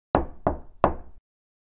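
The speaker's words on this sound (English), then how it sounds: "Let's knock first." Three sharp knocks on a door, evenly spaced and close, each ringing out briefly before the next, with no voices around them.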